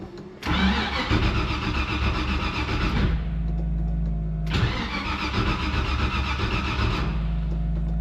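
A carbureted classic car engine cranks and fires up, runs loudly, drops back briefly, then catches again and settles into a rough cold idle, close and alone.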